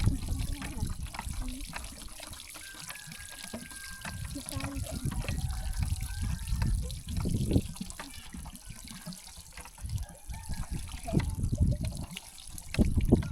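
Groundwater is pumped from a well in a traditional rural Lao village, with water pouring and splashing steadily close by while people talk over it.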